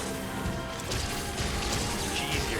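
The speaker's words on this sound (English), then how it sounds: "your cat just smashed it with a cannon" A cannon shot smashing into a monster in a Monster Hunter video game, a dense crashing impact with a burst of clatter, heard amid continuous loud game noise.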